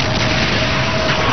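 A supernova explosion sound effect: a dense, sustained rumbling roar of broadband noise that stays loud and steady throughout, like a continuous deep blast with no clear onset or end.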